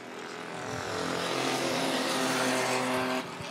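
Bomber class race cars roar around the oval at Monett Motor Speedway, their engine noise swelling into a loud, sustained drone before easing off at the end.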